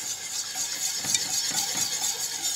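A spoon or whisk stirs milk into a thickening sauce in a pan, scraping around the edges while making a cheese soufflé base, with soft continuous scraping and gentle liquid swishing, a few slightly louder strokes mid-way, close and moderately quiet.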